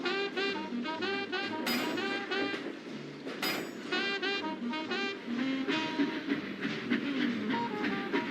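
Two steam tank engines, an LNER N2 and an LMS N2, pull into rail yards with rhythmic clickety-clack, hissing and several sharp, high whistle blasts that rise above the rolling noise.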